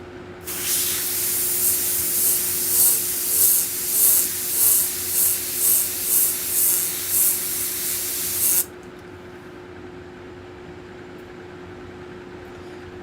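An airbrush sprays paint through a skull stencil in a steady close hiss pulsing in short rhythmic bursts, then cuts off abruptly, leaving only a low hum.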